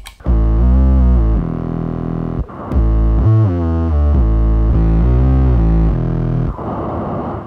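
A dry synthesizer bass from a dawless hardware setup with reverb and delay switched off plays a loud, distorted, buzzing line of sustained notes with abrupt changes and some background noise, alone without talk.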